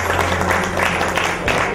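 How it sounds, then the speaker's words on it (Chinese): An audience claps together at a round-table dinner banquet, a short burst of dense, steady applause that fills the room, with a murmur of voices beneath it. "来给大家一个掌声。"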